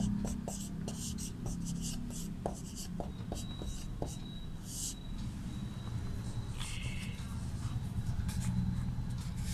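A pen writes an answer on paper, scratching softly in short strokes and taps under a steady low background hum, close but faint.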